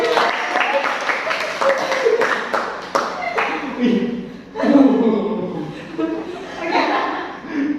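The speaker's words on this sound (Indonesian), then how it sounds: "Tepuk tangan." A classroom group of children claps their hands in a brief scattered burst, mixed with chuckles and laughter, fading into excited chatter and voices in the room.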